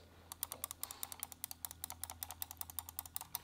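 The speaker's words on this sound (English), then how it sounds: "one more quick thing I thought worth mentioning about the buttons is how loud the clickers are." Logitech MX Master 2S mouse buttons clicking in a rapid, steady run of sharp, close clicks, fairly quiet, with no talking.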